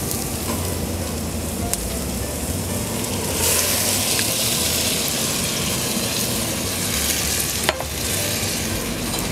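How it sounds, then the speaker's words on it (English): Minced garlic sizzling in a pan for a rustic tomato sauce while it is stirred constantly, a steady close sizzle with scraping stir sounds and a couple of sharp clicks, no voices. "I'm going to add a little bit of minced garlic. You want to constantly stir this so that it doesn't burn."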